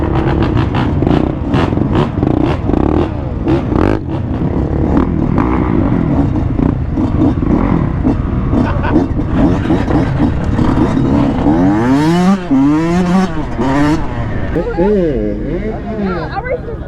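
Several dirt bikes and motorcycles rev and ride at once on a crowded trail, a loud continuous engine roar with rising and falling revs, one sweeping pass near the end, and voices mixed into the din.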